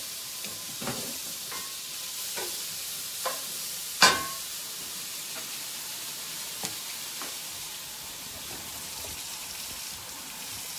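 Meatballs fry and are stirred in a pan for zoodles and meatballs, giving a steady soft sizzle with a few scattered clinks and scrapes of the spoon, one sharper knock standing out, all close and without talk.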